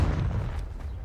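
Confringo fire spell exploding in Hogwarts Legacy: a dull, muffled low boom with a short rumbling tail, moderately quiet and heard alone.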